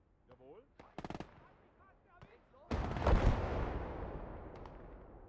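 Gunfire in the Gates of Hell: Ostfront war game: a few sharp shots early, then one heavy blast whose rumble slowly fades over several seconds. Someone speaks briefly between the shots.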